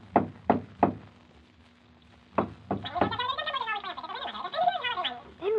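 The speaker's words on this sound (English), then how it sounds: "he jumped onto the door knocker and swung back and forth on it." A door knocker swung back and forth against a door gives three sharp, close knocks in a quick run, then two more after a pause, followed by a long stretch of lively chattering voices.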